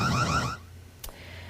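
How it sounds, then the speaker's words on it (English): A security camera on a tall pole in a residential neighborhood blares a loud, warbling electronic siren that cuts off after about half a second, leaving a low hum and a brief click. "That siren is going off sometimes multiple times a day"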